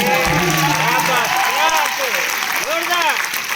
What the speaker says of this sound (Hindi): बस इसी तरह की तालियां चाहिए मुझे मेरे बाकी के लिए।